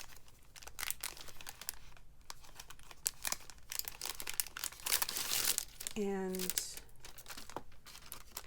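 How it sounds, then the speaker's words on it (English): Thin sheets torn and crinkled from a small paper pad with one shiny side, close and crisp in bursts, with a person talking over and between the rips. "I'm about to rip it apart here. The paper is quite thin"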